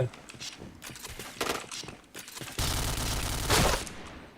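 Bursts of gunfire from a first-person shooter match ring out amid game effects, with a louder sustained volley late on, while players chatter over the action.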